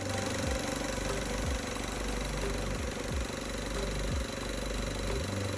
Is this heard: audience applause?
no